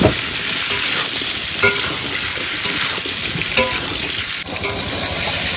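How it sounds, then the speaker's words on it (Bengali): Elephant foot yam, potato, green chili and ginger fry in hot oil in a pan with a steady loud sizzle, broken by several sharp stirring scrapes spaced about a second apart. No one speaks. "এটা ভালো করে ভাজবো।"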